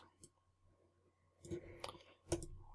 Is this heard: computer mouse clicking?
yes